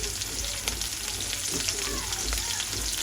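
Mustard seeds, onion and green chilli frying in hot oil in a pan, a dense, even crackling sizzle throughout with occasional faint pops and stirring touches.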